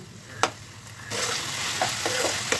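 Large onions tipped into hot oil with tomatoes and chillies for a mutton curry, a sudden loud sizzle bursting up after a clack and holding steady with a few stirring knocks, close by.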